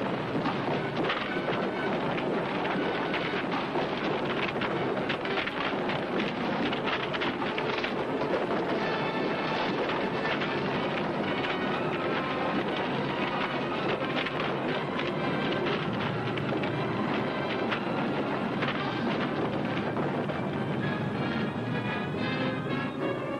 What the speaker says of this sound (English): Hey, what was that? Thunder? Earthquake.